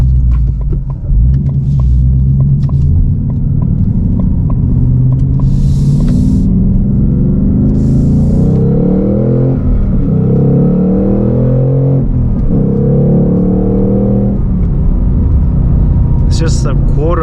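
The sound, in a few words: 2023 Ford Mustang Mach 1 engine accelerating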